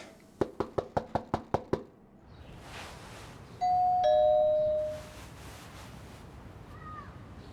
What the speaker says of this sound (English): now, some dude keeps ringing the doorbell